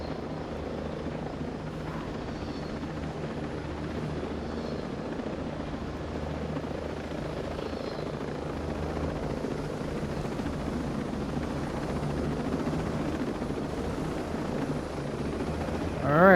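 An enemy air support helicopter in the video game Ghost Recon Breakpoint thrums steadily in the distance, a continuous rotor drone that grows slightly louder toward the end.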